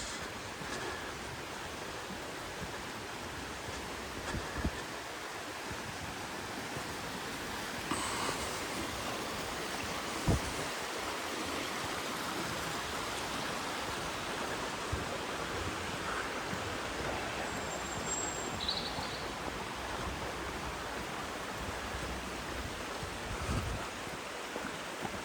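River water pours over a weir in the Loxley Valley near Sheffield, making a steady, dense broadband rush that runs unbroken and fairly close throughout, with only a few soft knocks here and there and no voices.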